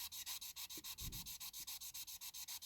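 Sandpaper is worked over the body of a 1950s Mettoy Castoys Streamline Coach diecast toy in quick, steady back-and-forth strokes, a close, dry rasping rhythm that continues throughout.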